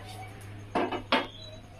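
Two quick clinks of a utensil against a metal plate as an egg omelette is lifted out of the pan onto it, close and crisp over a faint background hum.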